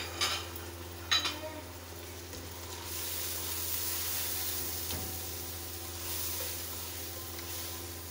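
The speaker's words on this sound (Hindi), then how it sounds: "अब इस मसाले को अच्छे से हम भून लेंगे।" Tomatoes and spice masala frying in oil in a pan give a soft, steady sizzle with a couple of sharp stirring clinks near the start, quiet and close.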